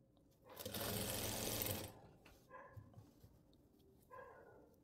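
A sewing machine stitches an invisible zipper onto fabric, running in one loud, steady whirring burst of about a second and a half, then stopping; afterward come quieter small handling sounds and a faint dog-like yip or two in the background.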